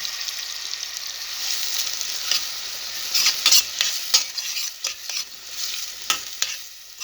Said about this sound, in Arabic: هاي تتقلى